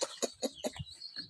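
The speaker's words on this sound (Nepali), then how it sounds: "यो कुखुराहरूलाई मैले यति चारो दिएँ" Chickens cluck in short, repeated bursts while being fed grain, close and fairly clear with no talking.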